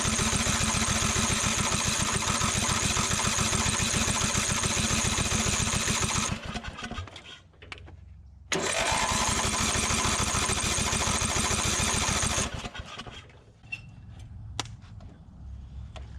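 Abandoned Craftsman DYT4000 riding mower being cranked, a loud rapid rhythmic starter churning that cuts off, briefly pauses, resumes for several seconds, then drops to a quieter irregular sputter.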